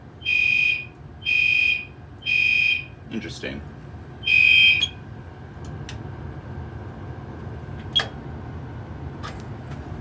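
A fire alarm panel during a system test sounds four loud, shrill beeps in quick succession, then falls silent. A person speaks briefly amid faint clicks and room noise.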